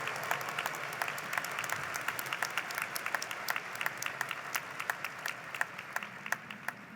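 Steady applause from a crowd at a university commencement ceremony for graduates, many hands clapping continuously at moderate volume, with a few sharper claps standing out.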